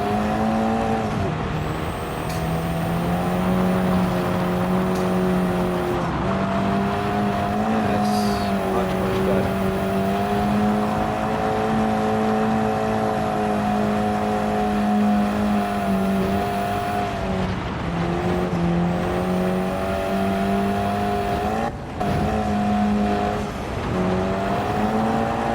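A race car engine drones steadily in a racing video game at the Sardegna Windmills track, its pitch rising and falling through gear changes over a continuous close onboard roar.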